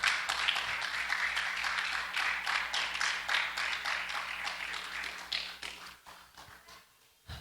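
A church congregation applauding in a worship service, a dense, sustained wash of many hands clapping that holds steady for several seconds before thinning out and fading near the end.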